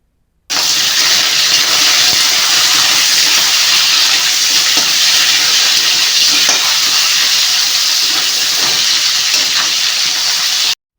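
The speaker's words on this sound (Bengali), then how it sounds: "এবার যে ক্যাঁকড়াগুলো ছাড়িয়ে বেছে রাখা ছিল সেই ক্যাঁকড়াগুলো ভেজে নিতে হবে" Shelled crab pieces fry in hot oil, giving a loud, continuous sizzling hiss that holds steady for about ten seconds with no talking.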